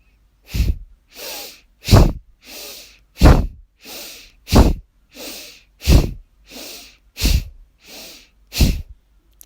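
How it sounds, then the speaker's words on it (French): Forceful rhythmic breaths in a dynamic yoga breathing exercise, about a dozen sharp, snorting exhales alternating with softer inhales at a steady pace, close and alone with no talking. "Continuez à votre propre rythme. Ces respirations dynamiques."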